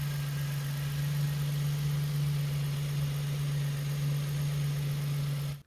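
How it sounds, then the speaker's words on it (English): An Infiniti G35 VQ35 V6 engine runs at a steady idle after an idler pulley delete and new serpentine belt, a constant low hum with a strong droning tone and faint whirring, close and continuous until it cuts off abruptly at the end. "We're going to go ahead and turn on the vehicle and check for any noises."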